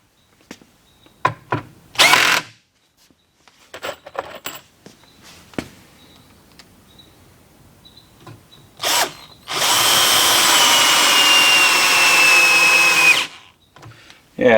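KIMO T-20 cordless drill driver running, with a few short whirring bursts and then one longer sustained run of several seconds, between quiet stretches of handling clicks and taps.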